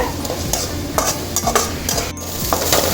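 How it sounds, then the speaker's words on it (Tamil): Onions with ginger garlic paste sauté in a pan for paneer butter masala. A steady sizzle sits under frequent scraping and clinking stirs of a spoon against the pan. No speech is heard. "இந்த வெங்காயத்தோடு சேர்த்து இஞ்சி பூண்டு பேஸ்ட் நல்லா வதக்கி விட்டுருங்க."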